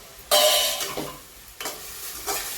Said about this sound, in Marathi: हे पालक आधी परतून घ्यायचं आहे